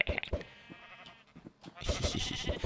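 Sheep bleating in Minecraft, a few short game bleats mixed with clicks and bursts of other game sound, with speech-like noise in places.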